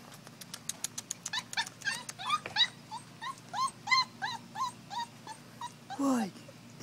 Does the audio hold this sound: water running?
no